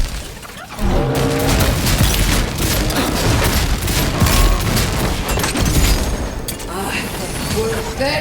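Gunfire in the fantasy RPG Avowed during a chase, a steady dense barrage of shots and impacts running throughout, loud and busy, with voices under the fighting.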